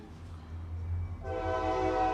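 A loud train passes nearby with a low rumbling drone, then its horn sounds a sustained, steady blast over the rolling noise, with no talking.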